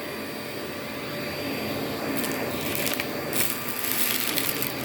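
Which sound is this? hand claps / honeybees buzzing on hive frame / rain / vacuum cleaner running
vacuum cleaner running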